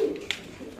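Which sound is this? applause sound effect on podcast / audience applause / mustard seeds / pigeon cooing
pigeon cooing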